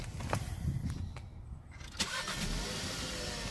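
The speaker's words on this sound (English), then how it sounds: "So we've started the car." A car engine cranks and catches, a short starter whir giving way to a steady idle, heard from inside the vehicle during a pre-trip check.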